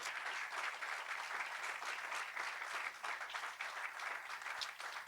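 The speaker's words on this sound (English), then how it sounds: "I want to ask for a huge round of applause for our amazing guests" Steady applause from a live audience for podcast guests at a Climate Week event, a dense, continuous clapping that holds evenly for several seconds without voices.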